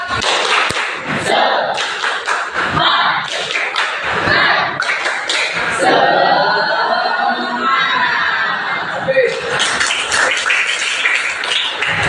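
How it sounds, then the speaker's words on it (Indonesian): A group does a rhythmic tepuk semangat spirit clap during a teaching session, sharp bursts of clapping in a patterned sequence with short gaps and a held stretch of voices in the middle. "Tepuk semangat."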